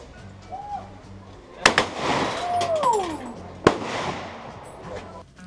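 Two sharp, loud gunshots ring out about two seconds apart at an army-run shooting range for tourists near the tunnels in Vietnam, each followed by a lingering echo, with background chatter and ambient noise.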